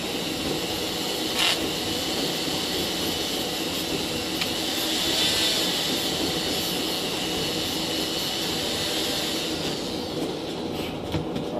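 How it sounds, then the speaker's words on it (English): A Dremel rotary tool smooths the inside of a Weber 44 carburetor casting, giving a steady, loud, high-pitched grinding whine that runs continuously for about eleven seconds with no talking. "I'm gonna smooth it out very gently with the Dremel"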